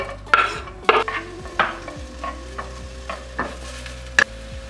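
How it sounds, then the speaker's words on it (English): Onions drop into hot oil in a pan at low-medium heat and are stirred, giving a soft steady sizzle punctuated by repeated sharp scrapes and taps of a utensil against the pan. "When the oil is going to be hot, you can drop inside the onions."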